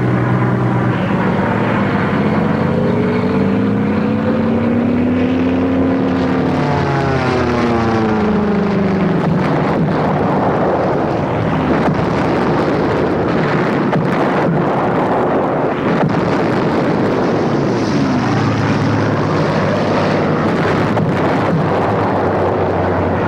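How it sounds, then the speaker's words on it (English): World War II propeller planes flying in a bombing raid, a loud, continuous droning roar with sweeping, shifting engine tones and heavy wind-like rushing across the whole span, no voices. "400 planes begin a round-the-clock bombing."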